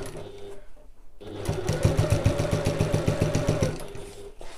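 Sewing machine stitching flat fabric under the presser foot while making a large bag: a short pause, then a close, steady run of rapid rhythmic needle pulses over a motor hum that stops near the end.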